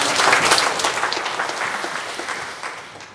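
A church congregation claps during a Sunday sermon, producing a brief burst of steady, fairly close applause that tapers slightly toward the end.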